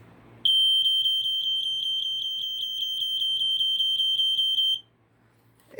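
A BRK 1200 smoke detector on test gives a loud, piercing high electronic beep, pulsing rapidly and steadily for about four seconds before stopping abruptly, heard close in a quiet room.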